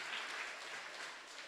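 A church congregation at a Children's Sunday evening worship service claps briefly, a faint, distant patter of many hands lasting under two seconds with no talking over it.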